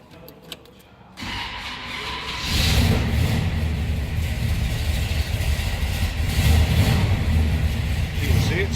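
A 1968 Chevrolet Chevelle convertible's engine cranks, catches after a short quiet spell and settles into a loud, steady, rumbling idle close by, with no talk over it.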